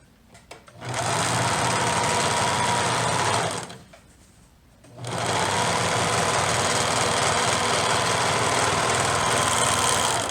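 A sewing machine runs steadily while stitching a side seam on a baby jumper, with two long continuous bursts of loud, even motor whir and a short pause between them. No one talks.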